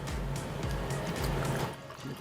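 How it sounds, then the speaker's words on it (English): Fizzy water poured into a watermelon peach mocktail, a steady close splashing, gurgling stream with a bright hiss that runs continuously before easing slightly near the end. "you're just going to add some fizzy water"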